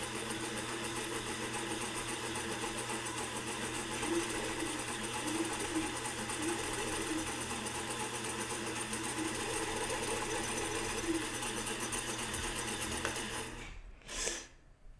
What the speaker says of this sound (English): So let's hold this stitch, back stitch